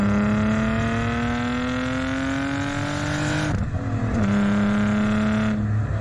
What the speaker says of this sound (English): BMW is famous for their inline sixes